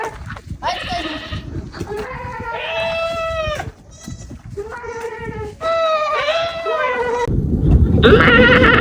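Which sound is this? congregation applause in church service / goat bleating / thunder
goat bleating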